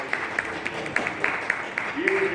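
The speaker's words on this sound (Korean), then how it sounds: "이혜영 교수님 박수." An audience at a lecture applauds Professor Lee with a scatter of light, irregular claps, moderately loud and fairly close, while a person speaks over the clapping.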